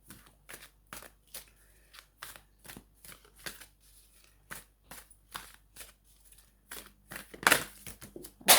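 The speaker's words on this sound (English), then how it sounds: "I'm going to pull some of those cards" Tarot-style cards are pulled one by one from a deck, making a regular series of crisp, soft slides and flicks about once a second, close and quiet, ending in a louder shuffle, with no talk.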